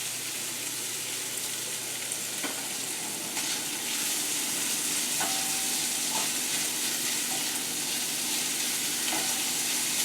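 Small pieces of smoked pork fry in a pan with a steady, soft sizzle and occasional faint clinks and scrapes, with no talking.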